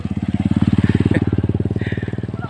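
A motorcycle engine putters close by with a steady pulsing beat, swelling slightly then easing as it passes along a road toward a highway, loud and up front with no talk over it.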